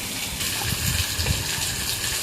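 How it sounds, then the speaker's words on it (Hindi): Running water washes vegetables: a continuous close gush and splash of water, with soft bumps and sloshing as the vegetables are handled, and no speech. "इधर इसको धो लेंगे हम"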